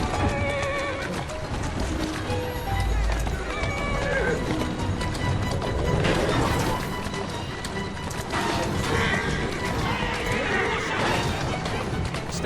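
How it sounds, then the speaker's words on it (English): A horse neighs and its hooves clip-clop at a steady gait, close and fairly loud, with a few bumps and thuds. A rider's voice is heard briefly. "Who's a good horse?"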